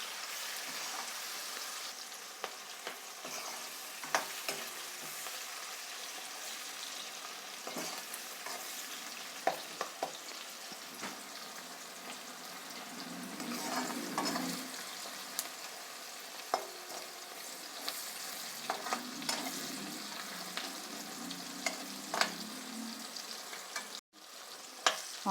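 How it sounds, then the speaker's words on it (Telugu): Onions fry in a pan for goat head curry with a low, constant sizzle, broken by soft scrapes and taps of stirring spread across a long stretch. Nobody speaks. "ఆనియన్స్ వేగుతున్నాయండి, కొంచెం గోల్డెన్ కలర్ లాగా వచ్చాయి కదండి."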